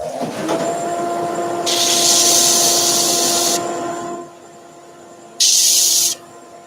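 A dust extractor hums steadily at a woodworking sanding table while a loud, broad hiss of suction runs for a couple of seconds, stops, then returns briefly in a second burst.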